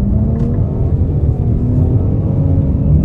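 A 2023 Nissan Rogue Platinum AWD accelerates at half throttle, a steady low engine rumble and road drone heard from inside the cabin, with no talking.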